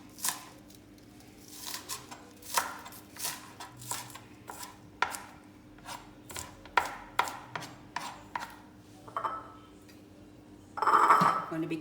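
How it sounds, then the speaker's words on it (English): Knife chopping scallions on a cutting board: a close, steady run of crisp, sharp chops at an uneven pace, ending with a short burst of rougher scraping noise. "cutting up my scallion"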